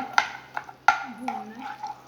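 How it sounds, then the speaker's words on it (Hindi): A spoon stirs ginger garlic paste in a pan, a few sharp clinks against the metal over a faint frying sizzle, close and quiet. "अदरक और लहसुन का पेस्ट जो है ये डाल दूँगी।"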